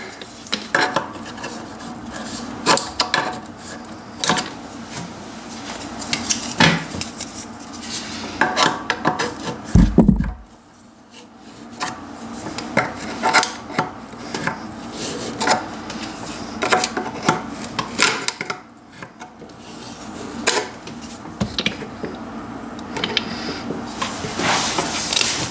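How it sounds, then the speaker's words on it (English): Metal wrenches tightening bidet fittings during installation, with close clinks, scrapes and rubbing of tools on metal parts in irregular bursts, a brief thump midway. "And then use the provided wrenches to tighten it down."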